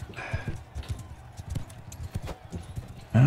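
Horse hooves gallop in the video game Mount & Blade 2 Bannerlord, a close rhythmic clip-clop of repeated beats, ending in a louder burst.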